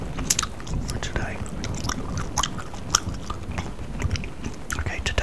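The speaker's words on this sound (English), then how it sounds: "I'm going to do that for today" Close, wet gum chewing with soft smacks and clicks in a steady irregular rhythm, recorded intimately for ASMR, with faint whispering and a low rumble of storm or rain behind.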